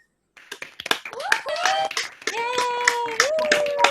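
Graduates at an online law and politics graduation unmute to cheer and clap for each other, with scattered close claps under overlapping cheering voices.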